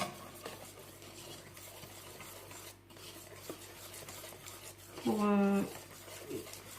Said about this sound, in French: Donc là, vous continuez à mélanger délicatement.